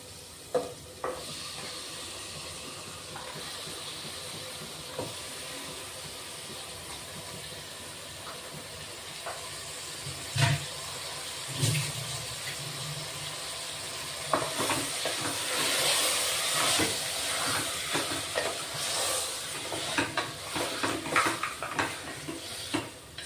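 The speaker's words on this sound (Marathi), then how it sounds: "कांदे, टोमॅटो, खडे मसाले, मटण टाकून घेऊ आपण आता" Onion, tomato, whole spices and mutton fry in a pan for a village-style mutton masala, a close sizzle with scattered clatters and stirring scrapes that grows louder and denser in the second half.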